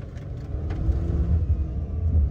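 A car engine rumbles low and steady nearby, a continuous deep drone with slight fluctuations and no talking.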